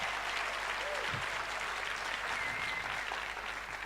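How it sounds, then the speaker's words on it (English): Sustained applause from a large audience at an event, dense and even, continuing steadily with a faint voice briefly audible underneath. "A big round of applause."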